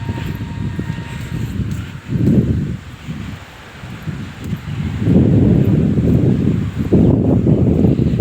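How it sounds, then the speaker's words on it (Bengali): Strong gusty wind roars and buffets the microphone outdoors beside a river embankment, rising and falling in loud surges. "প্রচুর বাতাস আলহামদুলিল্লাহ"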